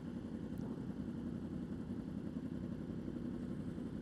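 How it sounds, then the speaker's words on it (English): A Yamaha R1 sportbike idles in a steady, low, faint rumble with an even pulse and no revving, alone and without voices. "Man, I love the sound of an R1."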